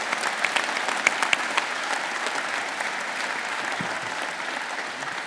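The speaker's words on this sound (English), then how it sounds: "they deserve a big round of applause" Audience at the Rangers football club AGM applauding the club staff, a dense sustained round of clapping from a large indoor crowd, steady throughout with a few sharper claps up front.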